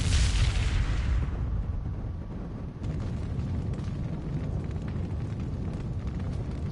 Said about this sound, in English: Fire! Never mind, we got the cannon.